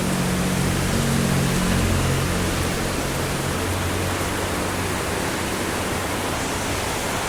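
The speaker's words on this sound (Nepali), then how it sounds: "पानी हेर्दै परिरहेछ" Heavy monsoon rain pours down in Kalimpong, a continuous, dense hiss of water that stays steady and loud throughout with no pauses. No voices are heard.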